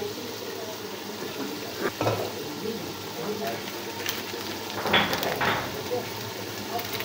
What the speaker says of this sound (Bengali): তো মাংসগুলো খুব ভালোভাবে নেড়েচেড়ে মশলার সাথে এভাবে মিশিয়ে নিতে হবে এবং কিছুক্ষণ সময় নিয়ে মাংসটা কষিয়ে নিতে হবে।